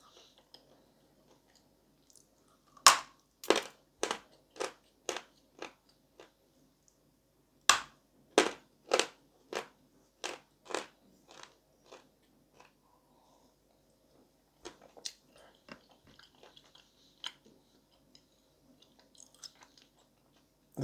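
Someone bites and chews Bashkir edible clay, sharp crisp crunches close to the mic, first a quick run of about eight or nine bites, a pause, then another burst, trailing off into softer, scattered chewing.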